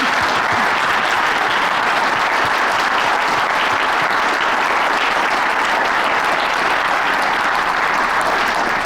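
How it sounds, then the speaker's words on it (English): Loud, sustained applause from an audience after a keynote conversation on housing strategies, a thick continuous wash of clapping with no voices over it. "Can we give Jenny and Danielle a round of applause, please?"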